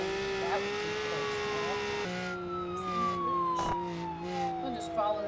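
A police car siren wails in the driving game BeamNG.drive, a steady, fairly faint rising and falling tone sweeping continuously under light game noise.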